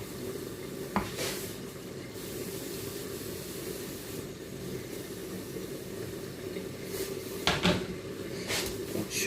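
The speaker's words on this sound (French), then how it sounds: "It's time to fry my shawarma meat." Sliced shawarma meat cooking in hot oil in a home kitchen, a steady low sizzle broken by a few sharp clanks and stirring knocks against the pan.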